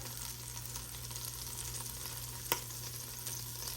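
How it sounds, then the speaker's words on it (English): Cubed pork butt frying in oil in a pot for Kentucky burgoo stew, a steady, even sizzle throughout with a single sharp click of a utensil near the end. "Add a little more oil. Now we'll add our pork."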